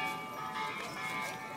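A bell rings behind the speaker at the Peace Memorial Park in Hiroshima, a steady sustained metallic tone with ringing overtones, moderately loud outdoors amid ambient noise.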